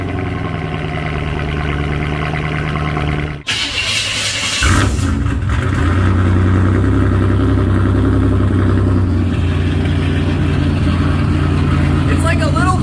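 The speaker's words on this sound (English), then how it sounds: "It's like a little V8, a little small block Chevy." A car engine cold starts with a brief crank, then settles into a loud, lumpy idle like a small block Chevy V8. Someone talks over the running engine.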